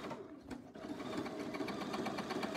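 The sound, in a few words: sewing machine embroidering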